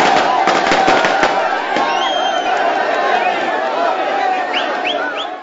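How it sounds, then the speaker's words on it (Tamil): Firecrackers burst at a street celebration for Jayalalithaa's release, a rapid crackling volley of sharp pops with a few whistling rockets, heard over crowd noise. "மகிழ்ச்சி வெள்ளத்தில் பட்டாசுகளை வெடித்தும் இனிப்புகளை விநியோகித்தும் ஜெயலலிதா விடுதலையை கொண்டாடினர்."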